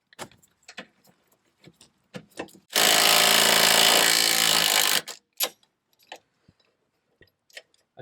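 An impact wrench driving a chrome socket through a universal joint fires one loud sustained burst of about two seconds while removing a Dodge Grand Caravan front McPherson strut, framed by scattered metallic clicks and clanks of tools.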